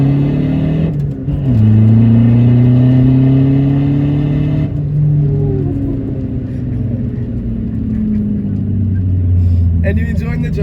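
A Volkswagen Polo 1.9 TDI diesel with a hybrid turbo pulls hard through the gears, its loud engine drone rising steadily in pitch, dropping at a shift, then climbing again from inside the cabin.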